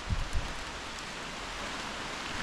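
Steady rain falls over a jungle forest at a rainforest campsite, a soft continuous hiss with a couple of brief low thumps near the start and no voices.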